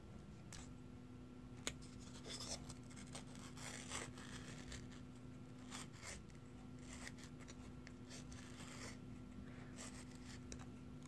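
A circle cutter carves a hole in foam board for a diorama, giving soft, close scratchy scraping strokes in an irregular rhythm, faint and alone with no talk.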